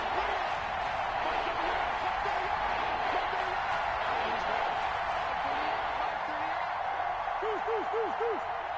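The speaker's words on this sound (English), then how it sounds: "The crowd getting into it as we come up on a big 3rd down." A stadium crowd in an American football video game roars as a big third down with the Cardinals approaches, a dense, steady wash of cheering that holds at one level throughout, with faint voice-like calls rising near the end.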